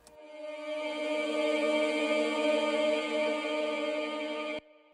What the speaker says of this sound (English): took a sung ethnic vocal, I put a big washy reverb on it, I froze it and got this audio, and then I reversed it